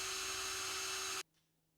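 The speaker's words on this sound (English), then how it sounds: "I drill out the broken section for later rethreading." A loud, steady whine of a power drill drilling out a broken threaded section on a cast iron skillet, running close up for about a second, then stopping abruptly into near silence.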